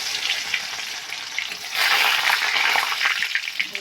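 Chopped garlic sizzles in hot oil in a village-style kitchen as country chicken curry begins, a steady hiss that swells louder midway and keeps crackling to the end.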